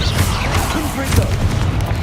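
Confringo blasting curse explosion in Hogwarts Legacy, a booming magical blast with low rumble and bursts, heard amid game sounds.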